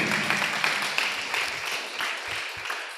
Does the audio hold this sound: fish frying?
no